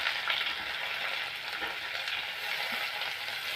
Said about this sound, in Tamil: இப்போ இஞ்சி பூண்டு போட்டுட்டு இது வதக்கிட்டு இப்போ வெங்காயத்தை போட்டுக்கலாம்.